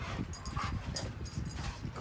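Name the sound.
puppy whimpering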